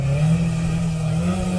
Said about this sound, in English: as he revs his car up on the start line